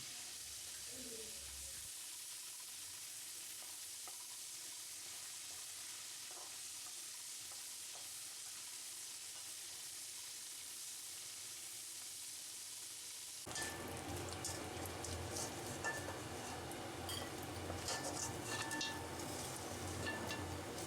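Dried salted fish frying in hot oil in a pan until brown, a steady close sizzle that starts quietly and then swells into louder, crackling frying in the second half.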